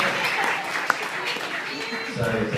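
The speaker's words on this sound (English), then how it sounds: "That is worthy of a real round of" Wedding reception guests applaud the matron of honour in a steady, continuous round of clapping that fills the room, with a murmur of voices underneath.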